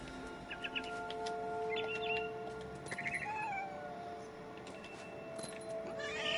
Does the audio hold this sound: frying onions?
no